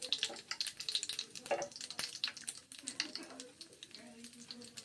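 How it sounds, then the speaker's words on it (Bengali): Whole cumin and black cumin seeds frying in hot oil for a lentil dish, a steady close crackling sizzle with bright spitting bursts and faint background clatter. "ভেজে নিচ্ছি তেলের সঙ্গে গোটা জিরে কালো জিরে ভেজে নিচ্ছি"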